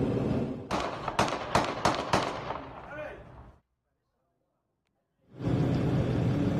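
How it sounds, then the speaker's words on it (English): A rapid burst of gunshots rings out during an exchange of fire between police and a suspect at a supermarket in San Francisco, several sharp cracks in quick succession, then sudden silence before noise returns. "you hear the gunfire there in the background"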